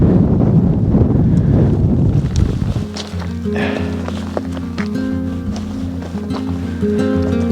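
Wind gusts across a mountain pass at Windy Gap, near Great Gable, and buffet the microphone with loud roaring rushes that ease after a few seconds. Quieter shuffles and light tones follow.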